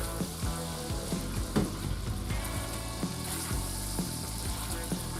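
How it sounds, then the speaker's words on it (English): Shrimp sizzle and fry in a pan of pasta sauce, a steady close crackle with occasional stirring clinks and soft bubbling, no voices. "I just want it to all come together and cook those shrimp."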